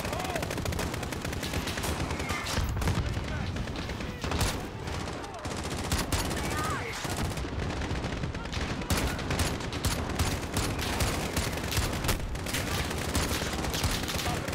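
Dense, continuous video game gunfire in Modern Warfare's Embassy mission, with rapid bursts and heavy explosions rumbling throughout, loud and chaotic, with faint voices mixed in beneath the battle noise.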